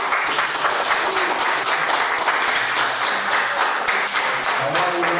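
Dense, steady audience applause fills a convention hall at a pony fan event, many hands clapping loudly and continuously from start to finish.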